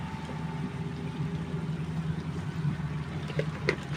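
A tractor engine drones steadily in the background while banana cue is being cooked, a continuous low rumbling hum at moderate distance with no talk.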